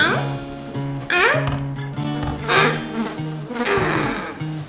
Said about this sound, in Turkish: Nereden geldiniz pis sinekler?